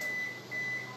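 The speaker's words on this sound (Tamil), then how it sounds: "எங்கள் அவனில் பேக் ஆகி முடிஞ்சோன்னா இந்த மாதிரி பீப் பீப் அப்படின்னு சவுண்ட் வரும்" An IFB microwave oven's finish beep sounds twice after grilling chicken, a steady high pitch broken by a short gap, over a low appliance hum.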